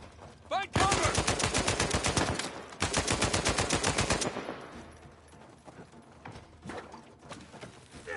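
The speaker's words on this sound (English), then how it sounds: "Oh shit, Sam, sniper! Find cover" Sniper fire in the video game Uncharted 4 comes as two long, dense bursts of rapid shots, then scattered quieter shots, with a short shout near the start.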